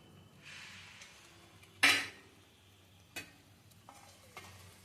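A spice mix for eggplant curry bubbles and fries in a pan with a soft, steady sizzle, broken by one loud burst of spitting and a few smaller crackles and stirring scrapes.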